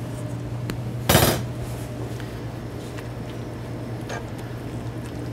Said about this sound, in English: Now we're going to add, this is a ½ pound of cooked elbow macaroni